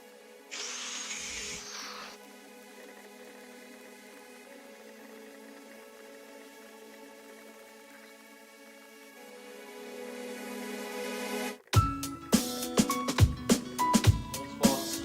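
An angle grinder whines steadily at a high pitch, then bites into metal strap material for a bottle art piece, becoming loud and jagged with rough cutting bursts near the end.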